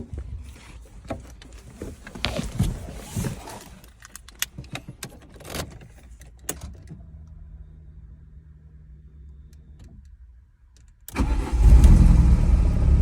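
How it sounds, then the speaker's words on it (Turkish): A VW Polo hatchback, with a replaced throttle body after stalling and idle-fluctuation trouble, cranks and fires up near the end, settling into a loud steady idle after a stretch of quiet clicks and handling noises. "Şimdi çalıştıracağım aracı."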